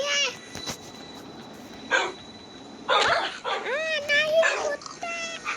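A dog lets out short bursts of high yips and whimpering barks nearby, loud and uneven with brief pauses between them.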